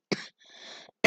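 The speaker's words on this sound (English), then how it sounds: "Oh wait, this cough, guys." Two sharp, close coughs separated by a softer breathy throat sound, loud and abrupt.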